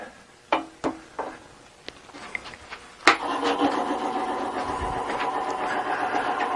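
A drill bit bores deeper into a metal knockout bar held in a lathe chuck; a few sharp clicks and knocks lead into a sustained grinding, whirring cut, close and fairly steady.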